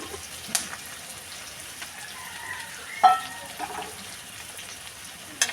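Country chicken meat frying with softened onions in a pan gives a quiet, continuous sizzle, broken by a few sharp knocks from a utensil.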